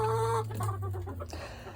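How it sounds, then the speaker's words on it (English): A big silver lace Wyandotte rooster in a snowy backyard gives a short burst of close clucking and throaty calls, loud and nearby, with no talk. "So Smog here is a silver lace Wyandotte rooster, and he is very big."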